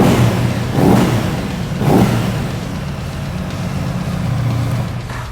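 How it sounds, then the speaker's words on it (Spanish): An Aprilia RS 660 motorcycle engine revs nearby with a strong, rough mechanical roar. Two blips swell and fall back before it settles into a steady, throaty idle. "Suena de puta madre la motito, ¿eh?"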